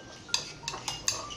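Mashed pumpkin is mixed with tapioca flour, salt and palm oil into a dough, with four quick, faint clinks of a utensil against a bowl at close range.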